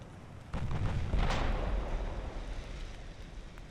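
The biggest naval guns available fire in the warship game Ultimate Admiral: Dreadnoughts, giving one heavy, booming blast that rolls into a long, fading rumble, with no voices.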